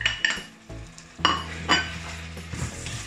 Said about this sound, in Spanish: En este momento vamos a añadirle el tomate, todo el tomate que tenemos picado.